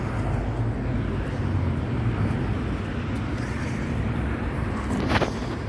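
Hyper race engine idling roughly, a steady loud low rumble without letup that throbs unevenly, with a brief louder burst near the end.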